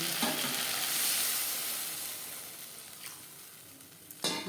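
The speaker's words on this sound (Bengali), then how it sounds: "ভাজা মশলা বেশ ভালো করে মিক্স করে দেবো এক দু মিনিট নাড়াচাড়া করে নেওয়ার পর দিয়ে দেবো জল" Fried spices being stirred in a pan with potatoes for Bengali-style tangra fish curry: a steady close sizzle with scraping strokes, easing off slightly before a sharp clatter near the end.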